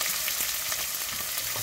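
Onions and dried red chillies fry in a pan, a dense, even sizzle close by with faint stirring taps, no talk over it.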